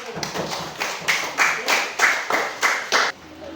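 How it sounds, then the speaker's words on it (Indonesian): A class of fifth-grade students claps for a classmate group, a run of about nine even, fairly loud bursts of hand claps with some background chatter. "tepuk tangan untuk kelompoknya"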